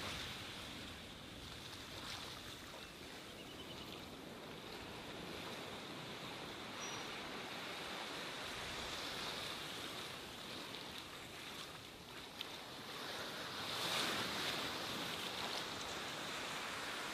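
Ocean waves hit rocks at low tide, a steady, fairly faint wash of surf with wind noise and a slightly louder surge near the end, with no voices.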